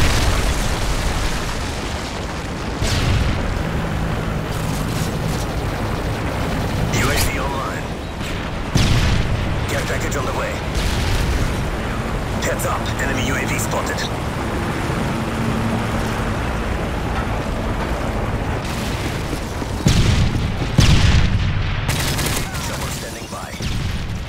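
Predator missile strikes in Call of Duty MW3 multiplayer: repeated loud explosive booms and bursts of gunfire roll over a constant battlefield din for the whole stretch, with no pause.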